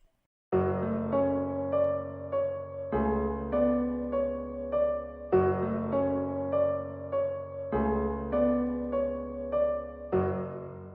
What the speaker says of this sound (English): Then I added a reverb onto it just to make it sound more spacey.